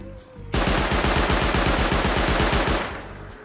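An auto turret in the survival game Rust, set to guard a bucket in a cave base, opens fire in a steady, fast automatic stream of loud shots lasting about three seconds before tapering off.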